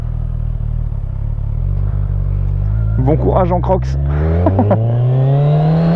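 A 2017 Kawasaki Z1000R engine revs hard and climbs through rising pitch sweeps, loud and close, while a rider speaks briefly in French over it.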